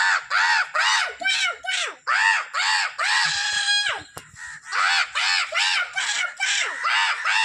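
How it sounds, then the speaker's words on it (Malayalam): A noisy flock of crows cawing nearby, harsh overlapping calls in quick succession, with a brief sharp knock in the middle. "ചുറ്റും എവിടുന്നൊക്കെ വരുന്നുണ്ട്, നിറച്ച് കാക്കകളാണ് ഗൈസ്"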